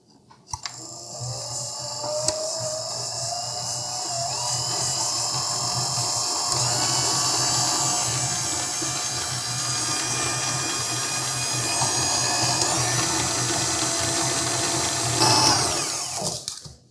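Stand mixer fitted with a paddle creaming butter and sugar, an all-metal DC-motor machine with a 5.3-quart bowl rated at 400 watts, gives a steady, loud motorized whir with a faint rhythmic knock that runs unbroken for the whole stretch, with no voices.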